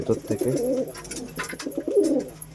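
Pigeons in a pigeon house give close, overlapping throaty coos, one soft rolling call after another, over a faint background rustle.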